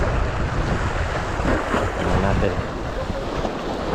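Strong wind roars steadily across the open sea around a small fishing boat on a catch-and-cook trip, mixed with the wash of waves, while someone speaks briefly over the blustery noise.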